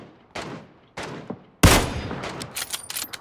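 Gunfire rings out in a shooter video game. Two separate shots are followed by a louder burst and a rapid string of cracks, all close and sharp, with no talking.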